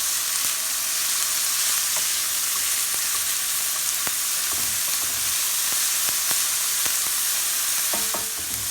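Chopped onion and red pepper fry in a pan with a constant close sizzle, punctuated by sharp scraping and tapping strokes of a utensil stirring, with no talk.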